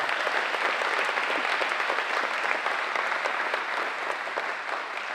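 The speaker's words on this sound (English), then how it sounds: "let's give a round of applause to Alicia as she shares here tonight" A room full of people at an annual community foundation meeting breaks into loud, sustained applause, the dense clapping close and even throughout before easing slightly at the end.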